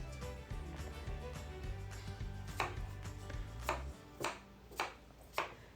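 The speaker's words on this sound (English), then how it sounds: "We're going to cut the apples into small pieces, quarter-inch pieces." Knife chopping apples into small pieces for a Southern apple cake, with sharp cuts on a board. Cuts come quickly at first over a steady low hum, then four spaced, loud, distinct chops ring out near the end.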